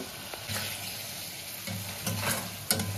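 Egg korma with freshly added ghee stirred in a pan: a steady low sizzle with several scraping spoon strokes, close and alone without voices.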